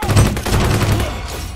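Gunfire in the online shooter Venge.io comes as a loud, rapid stream of close shots with a booming low end, fading slightly toward the end.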